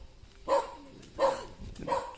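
A dog in poor condition barks on an island in Vietnam: three short, fairly close barks spaced evenly, about three-quarters of a second apart, with no talk.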